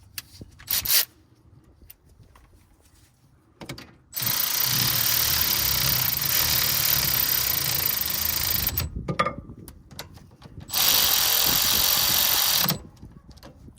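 A ratchet snugging down a bolt on a 2007 Honda Accord rear brake: two long, loud whirring bursts from a powered ratchet, separated by quieter clicks and handling noises, close up and without talking.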